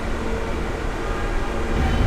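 A New York subway R160B car running as a Manhattan-bound Q local produces a steady, loud rumble of wheels and motors. The sound stays even throughout, with no voices.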